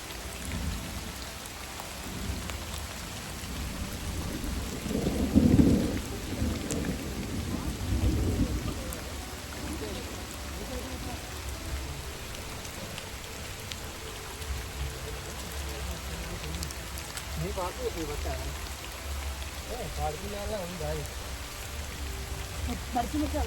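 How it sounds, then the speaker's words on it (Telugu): Steady rain falls through a forest on a trek to a hidden temple, with a low thunder rumble rising partway through. Faint voices are heard now and then under the hiss of the rain. "మేము వచ్చేసరికి వర్షం మొదలైంది"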